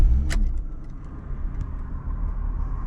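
A 1997 BMW E36 M3 starting up: a brief starter crank leads into a steady low idle rumble, close and fairly loud.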